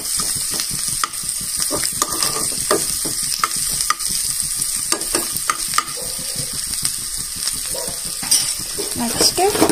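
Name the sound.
stirring coriander into a frying tempering for ridge gourd chutney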